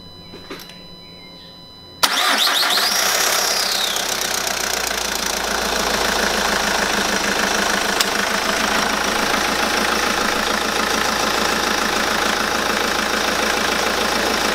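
After a quiet start, a diesel engine cranks and fires up abruptly, then settles into a loud, steady, knocking idle close by, following priming of the fuel pump.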